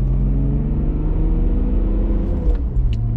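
A BMW E39 525 TDS with a turbo diesel engine drones steadily while driving, a loud low rumble heard from inside the car with a faint jingle of keys late in the clip and no talking.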